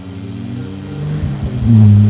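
An Ariel Nomad 2 engine growls low and close, swelling into a louder rising rev toward the end of the short burst, with no voices.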